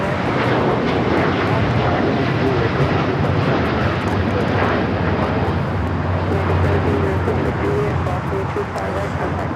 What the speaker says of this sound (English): Turkish Airlines Flight 180 taking off to Istanbul on the 787-9 Dreamliner